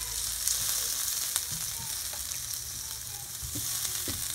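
Chopped garlic and red onion sizzle steadily in hot oil in a pan, a close, even frying hiss with a few soft stirring clicks and no talking.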